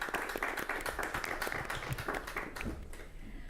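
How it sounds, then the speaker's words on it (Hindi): Steady clapping from an audience at a farmers' crop insurance event, dense and continuous with no speech over it, fairly quiet and heard from a distance. "एक बार जोरदार तालियां हो जाएं हमारे सभी किसानों, हमारे विशेषज्ञों के लिए"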